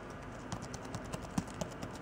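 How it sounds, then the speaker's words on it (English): Bluetooth keyboard and case combo for a Microsoft Surface 2 being typed on, giving a run of soft, irregular key clicks, close but faint, over steady room hiss. "If I wanted to start typing now"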